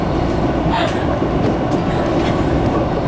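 A train pulls out of Andong station in Korea, a steady loud rumble of wheels and carriages with faint clatter, continuous and close throughout.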